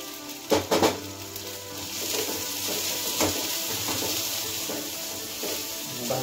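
Green chillies sizzling in hot oil in a pan for Marathi kanda poha, a steady frying hiss with a couple of sharp clinks from a spoon near the start.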